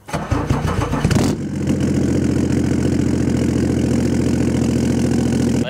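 A 240 hp BMW E39 530d diesel with a homemade straight-pipe exhaust, running cold, cranks and fires with a sharp burst, then settles into a loud, steady, deep idle rumble close by.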